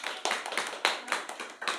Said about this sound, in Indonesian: Berikan dulu aplaus untuk kelompok 1,